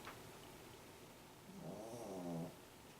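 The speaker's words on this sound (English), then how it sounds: "Got a snoring dog sitting below us." A single soft, rumbling snore from a dog rises and fades in a quiet room, close by.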